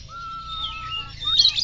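A white-rumped shama (murai batu) sings in clear, sustained whistled phrases rising into brighter chirps, loud and close over a low background hum.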